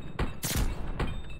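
Rapid gunfire from a shooter video game, several loud broadband bursts in quick succession with short gaps, close and dominant with no talk over them.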